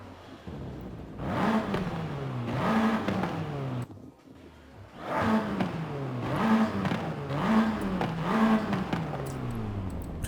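A Volkswagen Golf R with an upgraded exhaust in Forza Horizon 5 revs in two long surges, its engine note climbing and falling repeatedly with a brief dip between bursts, loud and close.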